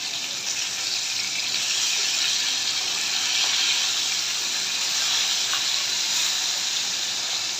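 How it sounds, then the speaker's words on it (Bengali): Sarpunti fish frying in hot oil in a frying pan, a steady loud broadband sizzle and hiss running unbroken throughout, with no talking. "ফ্রাই প্যানে তেল দিয়ে দিলাম তেলটা গরম হওয়ার জন্য গরম হয়ে গেছে এখন মাছ দিয়ে দিয়ে দিলাম"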